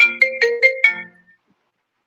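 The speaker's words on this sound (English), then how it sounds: "Is Becca on the phone?" A phone ringtone plays a short melodic pattern of five quick, bright pulses, clear and close, then stops and leaves silence, with no talk over it.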